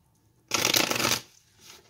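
A deck of cards is shuffled once in a quick, close riffle lasting under a second, followed by a soft rustle as the cards settle.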